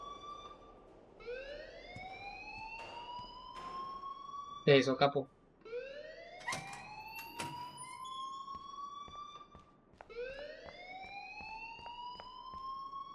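A rising, wailing siren-like alarm repeats in long upward sweeps inside a video game set in Arcadia Bay, interrupted by a short clattering burst, with brief speech heard between the wails.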